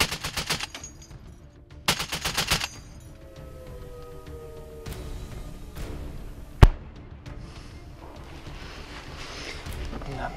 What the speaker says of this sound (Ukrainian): Постріл, постріл. Плюс постріл.